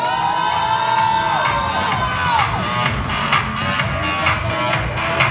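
Crowd cheering and whooping at a Miss Gay Black & White 2025 pageant presentation of contestants, a dense, steady roar of voices with shouts rising through it, with no distinct clapping.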